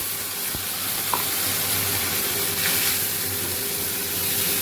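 Ground spice paste frying in oil with chicken for a home-style chicken curry, a steady close sizzle that stays even throughout, with a faint clink of a utensil near the start.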